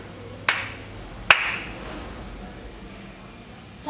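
Two sharp, separate hand claps about a second apart ring out in a quiet room, followed by a low background hush.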